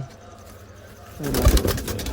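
Low, soft cooing of a pair of pigeons close by, rising in the second half over faint background rustle.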